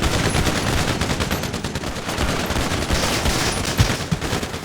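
Rapid automatic gunfire in the video game GTA 5, loud, dense bursts of shots rattling without pause throughout.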